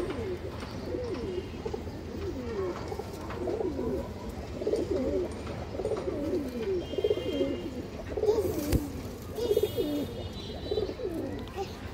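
Pigeons at a breeding farm coo continuously, several birds close by layering low rolling calls over a steady background hum, with a faint voice now and then.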